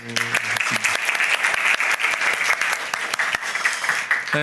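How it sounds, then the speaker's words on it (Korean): A church congregation applauds during a Sunday worship service for a young drummer who sang, a loud, dense round of clapping with brief tonal sounds at the start and end. "다시 한번 박수."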